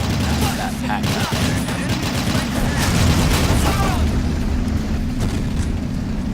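Dense game combat from Men of War Assault Squad 2, with a continuous barrage of gunfire and booming blasts filling the scene, including an anti-tank grenade explosion, loud and sustained with a voice talking over it.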